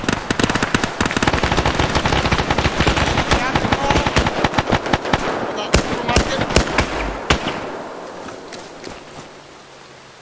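Rapid friendly small-arms and machine-gun fire crackles in an Arma combined-arms battle, dense bursts of cracking shots close by that thin out and fade toward the end, with no talk over them.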